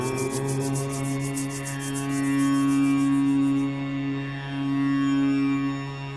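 Two hands rub briskly together during a breathing and meditation session, a dry swishing friction that swells and eases in a few long strokes, close and clear, with no talk.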